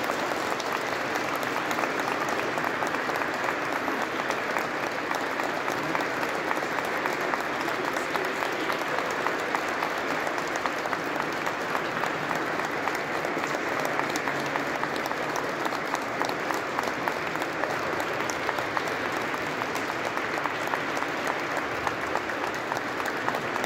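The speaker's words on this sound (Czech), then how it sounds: "Tak a teď ten potlesk." A congregation claps at a deacon ordination ceremony in a church. The applause is dense and continuous, holding at an even, moderate level for over twenty seconds with no talking.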